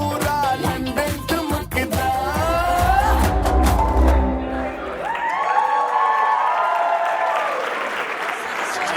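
An audience claps and cheers loudly after a sangeet dance performance, with music fading out beneath the applause and a voice talking over the crowd as the clapping tapers.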